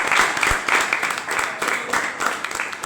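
An audience at a student yoga talk claps in an uneven, moderately loud burst, with individual claps pulsing through the crowd noise.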